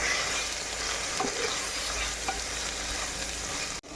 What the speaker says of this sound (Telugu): అండ్ గరం మసాలా అన్నీ వేసి మంచిగా మిక్స్ చేసుకోవాలి